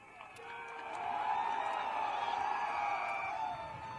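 Rally crowd cheering and chanting slogans in a welcome, a dense, loud wash of many voices that swells after the first second and holds steady, with no single speaker standing out.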